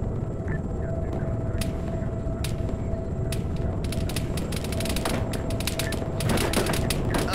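Heavy .50 caliber machine gun fire in the Arma 3 video game, a dense stream of rapid sharp bursts over constant loud game rumble.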